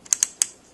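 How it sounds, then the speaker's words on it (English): Temperature control on a George Foreman panini press gives three sharp plastic clicks in quick succession, close and clear, with a faint fourth tick trailing at the end. "The temperature control, it simply says either high or low, and you can hear it clicking."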